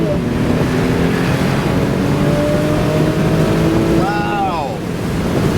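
A 2013 Mercedes-Benz SLK 350 AMG Sport in sport mode accelerates with a steady, loud engine drone that rises in pitch, then drops and climbs again around an automatic gear shift near the end, with road and wind noise underneath.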